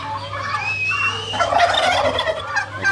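A white turkey gobbles repeatedly among other poultry, with hens and a rooster nearby on a farm. The calls are close and fairly loud, and steady background noise runs underneath.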